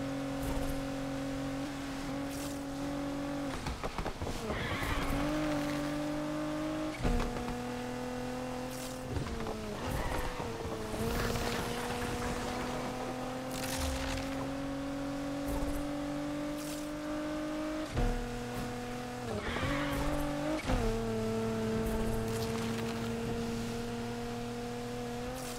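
Ferrari race car engine in the NFS Unbound racing game, a steady tonal engine drone that climbs in pitch through the gears with several sharp shift drops and brief bursts of crashes and clatter, played at moderate level without talk.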